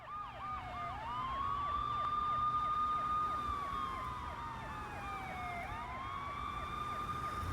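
Several police sirens in the video game Max Payne wail at once, overlapping rising and falling tones mixed with a rapid yelp pattern, steady and moderately loud with no talking.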